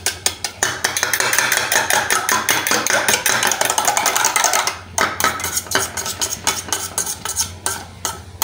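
Spoon scraping and clinking against a dish as food is mixed with black pepper, a quick steady rhythm of close, bright strokes that runs continuously and eases slightly near the end.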